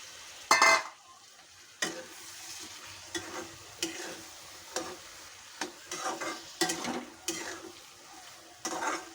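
Potatoes with washed dried Bombay duck are stirred in a frying pan, a soft sizzle broken by about a dozen irregular scraping strokes of a spoon against the pan, with one louder clatter at the start.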